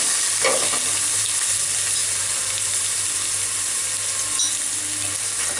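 Onion paste frying in hot oil in a pan, a steady close sizzle with light stirring scrapes throughout and no talking.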